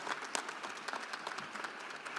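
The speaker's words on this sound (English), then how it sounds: "let's make a big round of applause to those who create culture here in Mulgimaa and in Estonia" A crowd claps together in steady, dense applause, moderately distant and fairly quiet, with no voices standing out.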